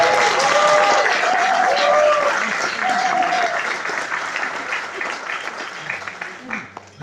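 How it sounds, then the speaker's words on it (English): An audience at a talk on Sarawak and the murder of Hussain Najadi claps in sustained, dense applause that fills the room, then thins toward the end, with a voice speaking over it. "I think he deserves another round of applause"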